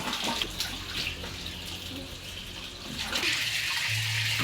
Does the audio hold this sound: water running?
yes